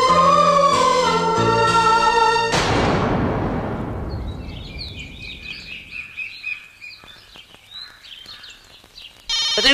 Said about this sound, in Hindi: फोन टा आसला।